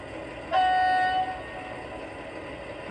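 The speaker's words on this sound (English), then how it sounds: "let's sound the horn on this real quick so you can hear that" A Piko V60 model train locomotive gives a single short horn blast of about half a second, clear and close against a quiet motor hum.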